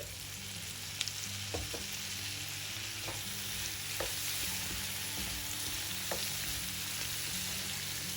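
Potato and capsicum pieces fry with chopped tomato in a pan, giving a steady, close sizzle throughout with occasional soft clicks of a spoon stirring, and no voices.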